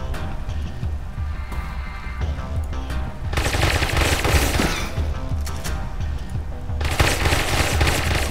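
Sustained automatic gunfire from a firefight in the cyberpunk video game Satellite Reign, loud and continuous bursts with dense rattling fire swelling mid-clip and again near the end, no talk over it.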